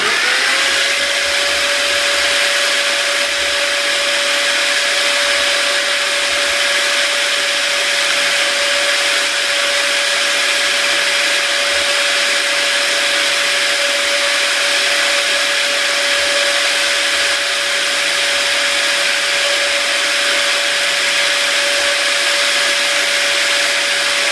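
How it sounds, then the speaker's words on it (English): A Dremel and a drill run together polishing a pinewood derby axle, a steady high-pitched rotary whine, continuous and loud, with a constant motor tone and no pauses or speech. "Then I get my Dremel and my drill going at the same time and polish the axle"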